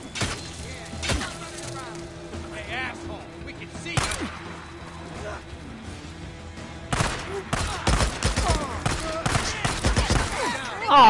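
Zombie-survival gunfire from Days Gone on PS4: a heavy exchange of shots, scattered bursts early and then a dense, sustained volley in the final seconds, mixed with shouting and game noise.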